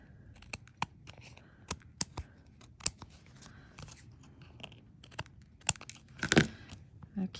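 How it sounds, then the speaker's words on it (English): Scissors trim a piece of card from the back for small artist trading card collage work, giving quiet, close, irregular snips and crisp paper rustles over a soft room background. "I'm going to trim it from the back."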